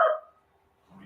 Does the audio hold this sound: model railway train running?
no